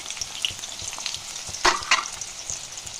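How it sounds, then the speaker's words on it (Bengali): Sliced onions deep-fry into birista for a biryani, giving a steady crackling sizzle with a couple of sharper stirring scrapes partway through. "এই যে বেরেস্তা হচ্ছে"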